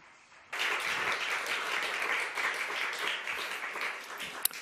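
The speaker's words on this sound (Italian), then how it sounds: "Con questo forte applauso salutiamo il professor Thomas Ferguson" Loud audience applause for Professor Thomas Ferguson at the close of a 2014 INET lecture in Italy, bursting in suddenly after a quiet moment and holding as dense, steady clapping from a large crowd.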